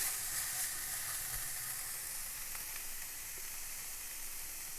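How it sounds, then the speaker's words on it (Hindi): Chicken mince frying with finely chopped green chilies, a dense close sizzle and hiss that holds steady throughout, with faint stirring and no voices. "अब इसके अंदर 2 चम्मच ग्रीन चिलीज डाल रही हूँ, ये बारीक कटी हुई हैं। इसको हमने भून लेना है इसके साथ ही।"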